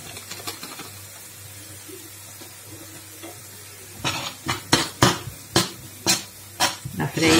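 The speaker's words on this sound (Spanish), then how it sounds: "Freímos así" Chopped onion and flour fry in a pan with a soft sizzle, broken in the second half by a run of sharp, rhythmic scrapes and clinks from a utensil stirring against the pan; a voice is faintly present.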